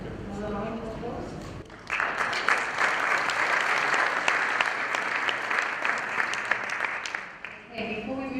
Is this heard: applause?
yes